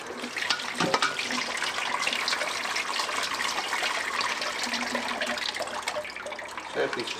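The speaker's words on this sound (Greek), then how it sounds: "Θα τα ξεπλύνω με κρύο νερό." Cold tap water runs steadily into a kitchen pot while food is rinsed, a continuous splashing rush with small clanks, and people talk over it.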